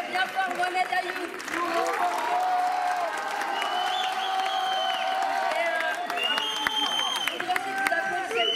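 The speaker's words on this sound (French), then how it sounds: "Applaudissez bien fort Mohamed Ayoub." A live audience applauds a performer named Mohamed Ayoub at a stage show, steady clapping with some cheering that swells after a brief opening and holds loud and close, with a voice and tonal sounds running beneath.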